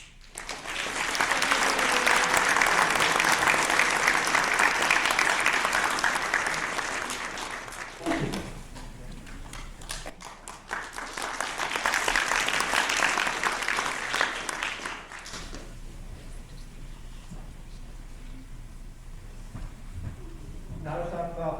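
An audience applauds safety award winners at a team robotics showcase, two sustained bursts of loud, dense clapping with a short lull between, then a quieter tail with some background voices.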